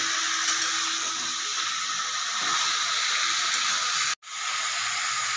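Marinated meat being stirred in a hot pan, giving a steady, loud hiss of sizzling that runs unbroken for several seconds, with a brief cutout near the end before the sizzle resumes.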